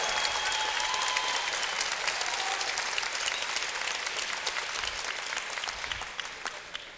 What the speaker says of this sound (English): have a nice round of applause for both fighters